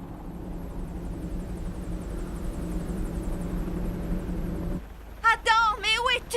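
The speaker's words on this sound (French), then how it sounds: "L'hélicoptère est là." Helicopter arriving over a super tanker at sea, a steady low rotor and engine rumble held for several seconds before cutting off, then a short burst of chirping sounds.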